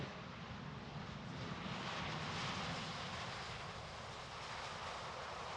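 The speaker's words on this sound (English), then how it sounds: "just wait for 350 to land" An Airbus A350 airliner lands at the Farnborough airshow, heard as a steady, distant broadband jet roar that holds evenly throughout, with no talking.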